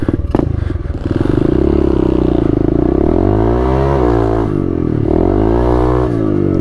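A pit bike engine revs hard and close during a wheelie attempt, loud and raspy, its pitch climbing, dropping and surging again with clattering mechanical noise.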